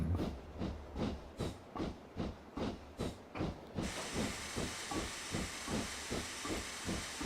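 A steam locomotive on the Darjeeling Railway in Train Simulator Classic climbs with rhythmic chuffing beats, then a constant broad steam hiss joins and continues under the steady exhaust pulses.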